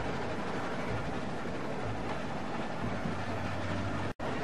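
A moving train rumbles steadily in The Walking Dead video game, a constant broadband roar with a low droning tone, cut by a brief dropout near the end.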